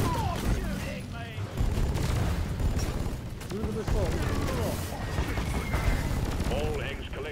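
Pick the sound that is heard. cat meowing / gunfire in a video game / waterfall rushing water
gunfire in a video game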